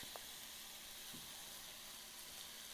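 Eggplant frying in a hot pan with cayenne pepper for curried eggplant, a steady soft sizzle running the whole time with a few faint clicks of utensils.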